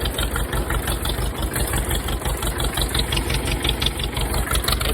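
A tractor engine labours uphill in high gear with a slipping clutch, a loud, close, rhythmic low chugging thrum that pulses evenly throughout with no voices.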